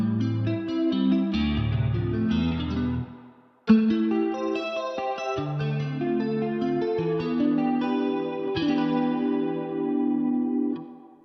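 A smooth R&B beat plays with a lush Metaverb reverb wash on the chords and melody, giving the music an airy, spacious tail.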